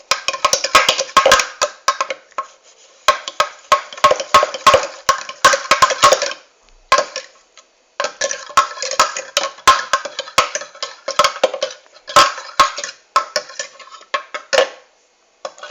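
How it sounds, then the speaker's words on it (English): A fork stirring lentil soup in a pot, giving bursts of quick metallic clinks and scraping against the pot, alone with short pauses between rounds of stirring. "So we get a fork and we just start to stir it around."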